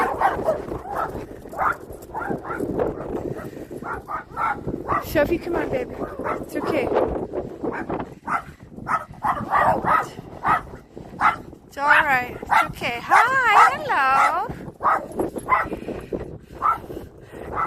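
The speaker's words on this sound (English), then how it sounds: "Oh, lots of dogs." Several dogs on a Mykonos street bark, yip and whimper close by in excited bursts, while someone talks soothingly over them.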